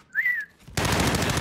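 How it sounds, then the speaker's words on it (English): An incoming airstrike whistles in Call of Duty: Warzone, a brief rising and falling tone, followed after a short gap by a loud, continuous burst of rapid gunfire. "Friendly position airstrike inbound."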